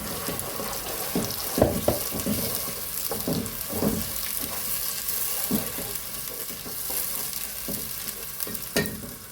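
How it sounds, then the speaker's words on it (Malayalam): Masala frying with browned onions in a pan for an Andhra-style green chicken curry, giving a steady sizzle with repeated scraping stirs and a few water-like splashes, close and fairly loud, with no talking. "നന്നായിട്ട് ബ്രൗണായി, ഉള്ളി നന്നായിട്ട് ബ്രൗണായി. അതിലേക്ക് നമുക്ക് ഈ മസാല ഇടാം."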